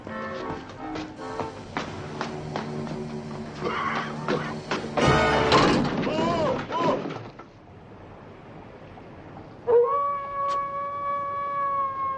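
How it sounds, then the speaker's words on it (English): A dog howling in the 1966 film Munster, Go Home!, a drawn-out wavering howl rising over scattered taps and a loud rustling burst, then a long steady tone after a brief quiet stretch. "I saw a movie once where a dog howled like that"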